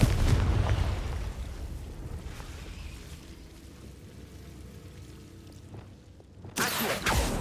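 Confringo spell explosion in a magic duel game: a deep, rumbling boom that fades over several seconds, then a sharp new burst near the end.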